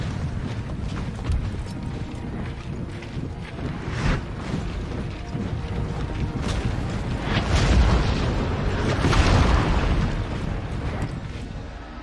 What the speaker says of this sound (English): Let's see if we can make them rout with round shot.